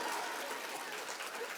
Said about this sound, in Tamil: கைதட்டு போ.